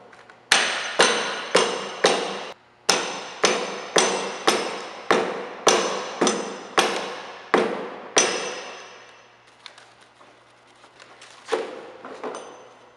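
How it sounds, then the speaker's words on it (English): Hammer taps on the metal leg fittings of a shipping crate for a HAPPY HCD3-1501 embroidery machine, about fourteen sharp, ringing strikes in a steady rhythm, loud and close, followed by faint handling noises. "tap them with a hammer so they swivel this way"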